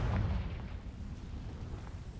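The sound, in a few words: Confringo fire spell explosion in a Harry Potter video game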